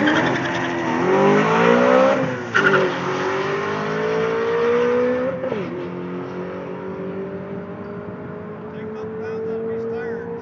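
A 2008 BMW M3 on street tires accelerating down a quarter-mile drag strip, loud sustained engine roar rising through the gears with brief dips at shifts, then a steadier drone as it pulls away.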